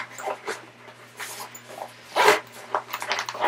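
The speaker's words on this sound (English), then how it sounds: "first it has an outside zipper pocket right here" Short rasping zipper pulls on the outside pocket of a sling crossbody bag come in quick bursts, close and fairly loud, with a low steady hum underneath.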